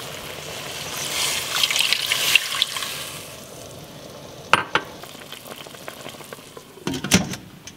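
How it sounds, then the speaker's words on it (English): A cup of water poured into a hot cooking pot of meat for maqlouba, giving a rushing splash and sizzle that settles into simmering, followed by a few clinks of utensils against the pot. "so I'm going to add 1 cup of water."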